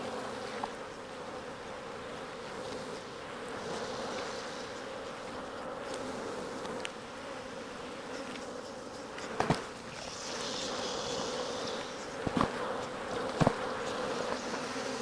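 A dense swarm of honeybees hums steadily inside an apiary hive box, a continuous close buzz throughout with a few brief knocks and clicks near the end.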